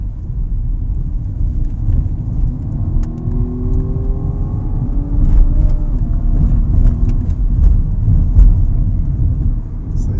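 A 2021 BMW M135i accelerates out of a curve, its engine note climbing steadily in a rising whine over a low rumble of road noise, heard from inside the cabin with a voice speaking faintly.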